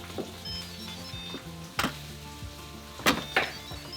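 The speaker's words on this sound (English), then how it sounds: "it's still boiling away" Soft bubbling and sizzling of white bean potato soup boiling in an Instant Pot, with a few sharper clinks and pops over a quiet, steady simmer.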